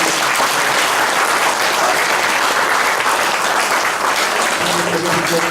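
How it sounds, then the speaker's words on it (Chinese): A church congregation claps together in thanks to God, a dense, loud, sustained round of applause that fills the room for several seconds. A faint hum creeps in near the end. "再次拍掌来谢谢上帝的鼓励"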